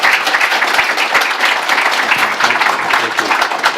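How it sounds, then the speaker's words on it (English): Audience applause at a Startup Grind Denver evening event, a dense, steady wash of many hands clapping for the full stretch, loud and close, with no speech over it. "I'd like a big round of applause for being here."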